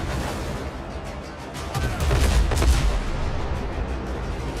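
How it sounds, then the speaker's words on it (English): A sailing ship's broadside cannons fire in the video game Windrose, a rolling volley of several loud booms and crashes that swells midway, with faint game noise beneath and no talking. "Now my broadsides."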